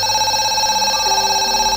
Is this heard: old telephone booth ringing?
yes